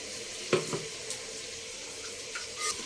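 Water goes into masala-coated vegetables in a pot for vegetable pulao, giving a quiet close sizzle and soft splashing with a few faint clinks.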